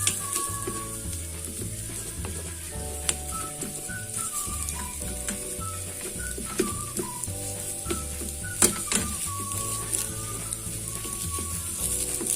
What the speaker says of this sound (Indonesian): kita ceplokin aja telurnya ke dalam teflon, kemudian kita orak-arik sampai kering